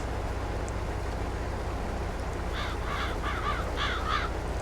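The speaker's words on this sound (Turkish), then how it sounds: "Bak kargalar bir de sizle uğraşmıyor." Several crows caw in quick bursts of two or three calls during the second half, set over a steady low rumble of farm machinery in a farming simulator.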